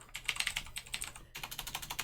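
Someone types a search query on a computer keyboard: rapid, steady keystrokes, close and clear, with a brief pause partway through and no voices.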